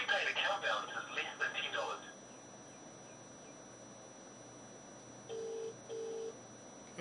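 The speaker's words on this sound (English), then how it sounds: "That's your phone." A phone rings twice near the end, two short steady electronic tones after a voice talks briefly at the start and then goes quiet.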